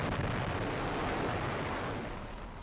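A nuclear bomb explosion rendered as a dense, sustained roar with heavy low rumble, loud and continuous before easing slightly at the end, with no talking.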